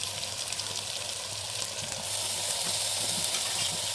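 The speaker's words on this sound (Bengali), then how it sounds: "এই যে দেখো ওপর থেকে আমি চিকেনটা দিয়ে দিলাম" Salted, turmeric-coated chicken going into a pressure cooker, giving a steady loud sizzle and frying hiss with a low hum underneath, growing slightly louder midway, with no talking.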